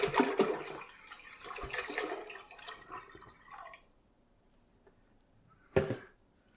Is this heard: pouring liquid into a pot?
yes